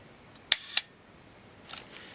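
Two crisp mechanical shutter clicks from a Canon Canonet QL17 rangefinder camera fire close together at slow speeds, followed by a fainter softer click-rattle; quiet and close, with no speech.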